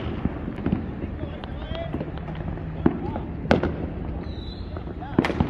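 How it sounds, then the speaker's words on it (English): Fireworks set off in a parking lot on the Fourth of July in east Las Vegas, with several sharp pops and bangs, some near and some farther off, over a steady murmur of outdoor crowd noise. "they're just popping fireworks right there"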